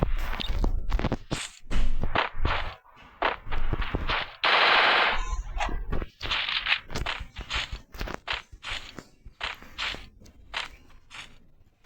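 Automatic gunfire in the Free Fire video game: repeated rapid bursts of shots crack out loud and close across the whole stretch, broken by short pauses and a longer sustained burst, with no talking.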